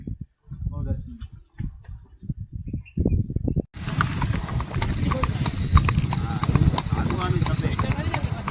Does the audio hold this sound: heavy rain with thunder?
no